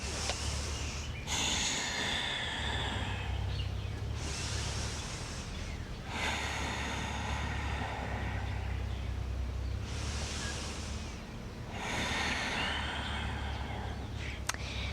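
Slow, deep breaths, each a loud airy inhale or exhale lasting a few seconds with short gaps between, come from a person holding a spinal twist stretch during a lower-back yoga routine, close to the mic and with no talk.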